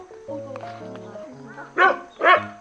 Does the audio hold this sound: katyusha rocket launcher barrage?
no